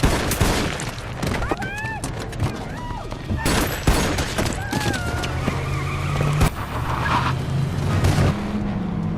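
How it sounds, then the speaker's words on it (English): Gunfire bursts crack out during a brutal street shootout in an action film, mixed with cars skidding and tires squealing, loud and chaotic, with voices and other scene sounds in between. "Roland quickly intervenes, triggering a brutal shootout on the street."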